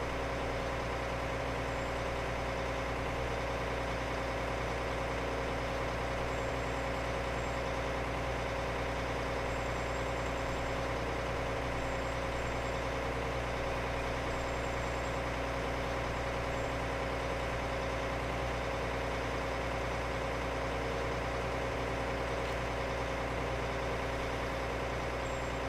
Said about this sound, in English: This is obviously going to be our main tractor on the farm.